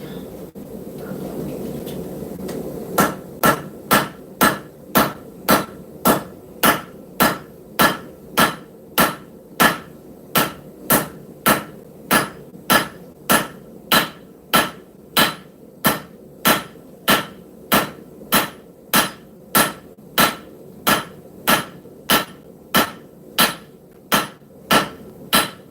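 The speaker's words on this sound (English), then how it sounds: "Keep forging that down until we have a 3/16 by 3/16 square." Steady, evenly spaced hammer blows forging scrap steel into a knife blank, roughly one sharp metallic strike per second ringing loud and close for over twenty seconds, preceded by a few seconds of low forge roar.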